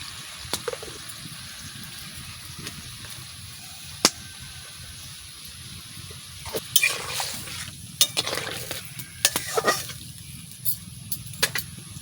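Small new potatoes with a pinch of turmeric are stirred in a pan over high heat, giving quiet, scattered scrapes and clicks against a low, soft cooking hiss.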